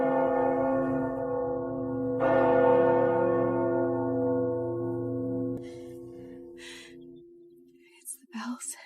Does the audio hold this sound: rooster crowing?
no